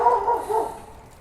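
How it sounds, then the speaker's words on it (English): A neighbour's dog nearby gives a single short, loud bark that fades quickly, heard alone outdoors. "My neighbor's dog agrees."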